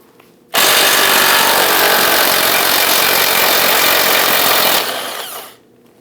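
A power tool spins off an 18mm ball joint nut on a 2001-2009 Volvo S60, a loud, close, continuous high whine for about four seconds that abruptly cuts out and tails off briefly.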